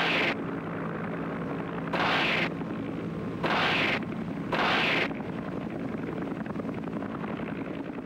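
Vietnam War helicopter gunship armed with miniguns, grenade launchers, a multi-barrel 20 mm cannon and rockets, firing three loud, evenly spaced bursts over a constant engine and rotor drone.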